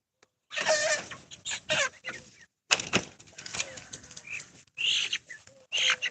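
A young chicken being handled and sorted by hand, heard in short bursts of clucking and flustered wing movement close to the listener, with a person talking between the bursts.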